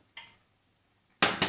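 A baking dish for cannelloni clinks briefly, then is set down with two close, bright ceramic knocks in quick succession.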